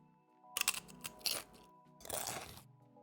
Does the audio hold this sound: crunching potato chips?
yes